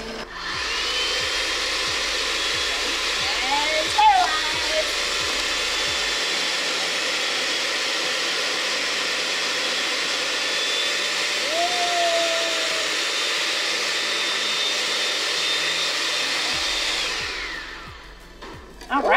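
An Oster or Veggie Bullet electric spiralizer cuts potatoes, its motor giving a steady, loud whirring drone throughout with a faint rhythmic thumping early on and a brief clatter before it winds down.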